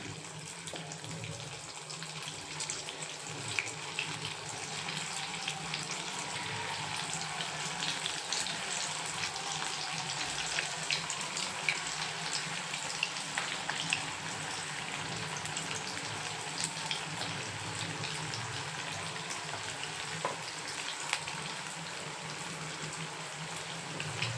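Manchurian balls deep-frying in hot oil on full flame make a constant dense bubbling sizzle that stays even and steady throughout, without speech.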